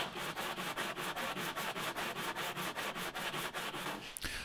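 A Honda K20 cylinder head rubbed back and forth over sandpaper by hand, a close, steady rhythmic scraping with about four strokes per second, ending in a brief knock.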